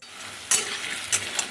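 Potatoes frying in a hot pan, a steady sizzle broken by two short, louder stirs, close and clear with no voices.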